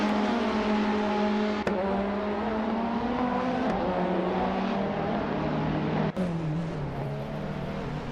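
Loud, continuous engine drone of a 1994 Alfa Romeo 155 TS touring race car in a racing video game, steady revving pitch with brief shifts and slight drops, no talking.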